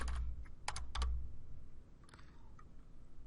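Java code is typed on a computer keyboard in quick clusters of light clicking keystrokes, close and soft, with a short pause followed by a few scattered taps.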